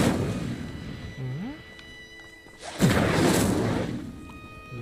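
A fire spell bursts in the video game Hogwarts Legacy, a sudden loud whoosh that flares once and then holds as a crackling roar over ambient game sound, with a tonal chime a moment earlier.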